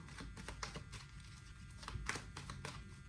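Quick riffling and soft slapping of tarot cards being shuffled, a run of crisp clicks and flutters close by, with a low hum underneath.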